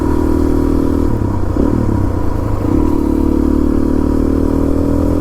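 A Suzuki DRZ 400 dirt bike engine runs steadily and close, a loud continuous drone with a slight shift in pitch partway through, with no voices.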